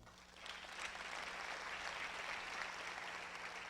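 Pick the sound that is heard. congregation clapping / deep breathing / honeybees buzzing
congregation clapping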